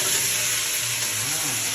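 Garlic and leaves sizzling in a hot pan as chicken feet are cooked, a steady loud frying hiss with faint stirring throughout, no voices.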